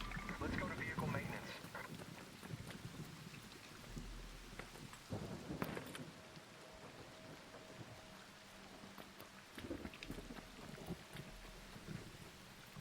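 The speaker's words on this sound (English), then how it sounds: "an electromagnetic storm is currently raging over topside. Beware the lightning strikes if you're outdoors." Rain and rolling thunder from an electromagnetic lightning storm in the video game ARC Raiders, a steady wash of rainfall with several heavy rumbles and cracks, while a voice talks over it throughout.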